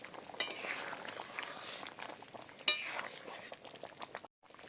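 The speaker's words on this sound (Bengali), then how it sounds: "একটু নেড়ে চেড়ে লাভিয়ে নেব।" A spoon scrapes and clinks around a cooking pot while banana flower dal is stirred, soft irregular scraping with a couple of sharp metallic taps, close and fairly quiet, ending in a brief silence.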